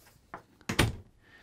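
An RV bathroom door is worked close by, giving a soft knock, then a louder double clunk as it swings and latches, with a faint rattle trailing off afterward.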